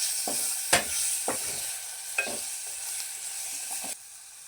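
Tomatoes tipped into a pressure-cooker pot of masala rice and stirred, giving a few sharp scraping strokes over a steady low sizzle, close by with no talking.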